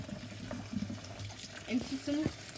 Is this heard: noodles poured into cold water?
yes